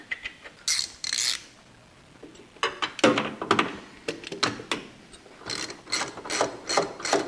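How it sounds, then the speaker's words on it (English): A ratchet wrench turns a bolt on an abandoned 1962 AMC Rambler, giving several bursts of rapid, close clicking separated by short pauses, with no talking. "but a ratchet wrench fits in here"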